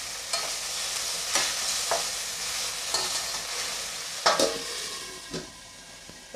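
Tomatoes frying with softened onions for paneer biryani, a continuous close sizzle punctuated by regular scraping stirs and a couple of louder spoon knocks against the pan.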